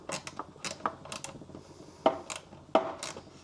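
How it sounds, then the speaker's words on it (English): Small nuts are tightened with an 8mm wrench during a subwoofer box install in a Rivian R1T, giving quiet metallic ratcheting clicks and clinks in uneven bursts, with two sharper knocks near the end. "I'm just tightening these nuts with an 8mm wrench"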